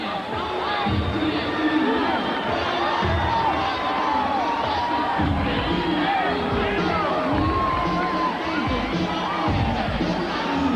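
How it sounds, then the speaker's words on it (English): A boxing arena crowd gives a mixed reaction of cheers and boos as a fighter walks toward the ring, a dense, steady roar of many voices with whoops and shouts rising throughout. "Hearing some cheers and boos"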